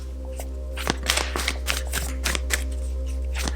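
Oracle cards being drawn and slid from a deck, a quick run of crisp papery flicks and taps over a steady low electrical hum.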